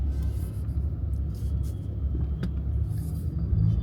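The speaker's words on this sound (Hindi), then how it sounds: "ये है फिलहाल ट्रैफिक का हाल" Steady road traffic in Pune on a morning with half the roads blocked, a continuous low rumble of nearby cars and other vehicles with no clear pauses and no talking.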